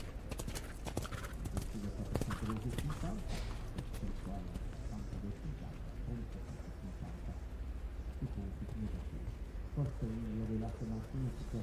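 Horse hooves thud in a rhythmic three-beat medium canter on a circle during a junior eventing dressage test at the FEI European Championships, steady and moderately close, with a commentator talking over it.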